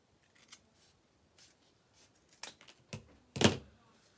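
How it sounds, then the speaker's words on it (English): Scissors cut folded paper at an angle for a fall flower wreath craft, a few sparse faint snips building to several louder, sharper crunching cuts near the end, close up with no talking. "fold it in half again, and I'll cut it from here in an angle."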